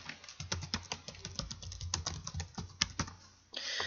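Quiet typing on a computer keyboard while entering a PowerPoint slide title, a run of light, irregular key clicks, close and alone.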